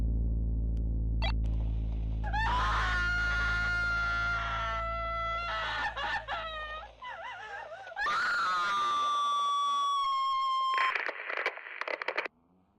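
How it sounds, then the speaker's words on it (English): A woman screaming for help: long, high, wavering cries that rise and slide downward, several in a row, echoing and eerie, with no talking. "A woman screaming for help."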